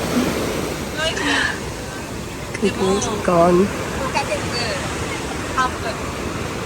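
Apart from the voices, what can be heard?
ocean waves breaking at Waikiki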